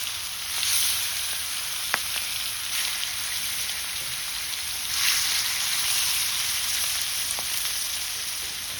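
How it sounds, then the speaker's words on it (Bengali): Fish frying in a pan, a steady rain-like hiss of hot oil with a few soft pops and occasional brief swells in the sizzle. "মাছগুলো এদিকে এদিকে করে ভেজে নেব"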